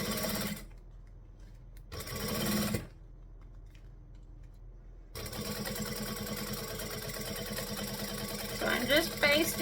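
Sewing machine basting the quilted layers of a front panel together with a 1/8-inch seam all the way around, running in two short bursts and then a longer steady stretch, with talk over the machine.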